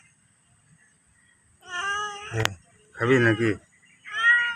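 A house cat meows for a snakehead fish in a few drawn-out, close calls with pauses between them, while a person speaks nearby.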